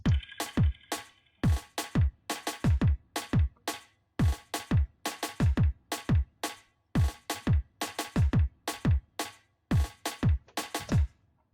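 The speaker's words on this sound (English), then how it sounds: "I'll play the kick and the snare together." Punchy electronic drum and bass loop with deep kicks and snappy snares in a fast, syncopated breakbeat pattern, repeating steadily with no other instruments or voices.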